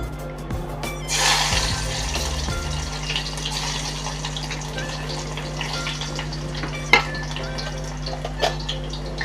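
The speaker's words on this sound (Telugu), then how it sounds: "ఈ ఆయిల్ అయితే వేడైపోయింది కదా ఇందులోకి వెల్లుల్లిపాయ వేసుకున్నాము" Garlic dropped into hot oil in a home kitchen pan, a steady broadband sizzle that swells early and then holds as a continuous frying hiss, with a few sharp clinks from utensils.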